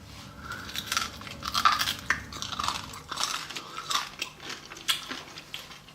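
Someone bites and chews crunchy fried crispy pork belly, with a string of close, crackling crunches that rise and fall over several seconds and no talking.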